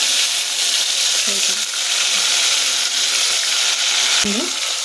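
Masala-stuffed brinjals are set one by one into hot oil for a Karnataka-style brinjal gojju, giving a steady, close frying hiss with a few brief clinks and soft knocks over it.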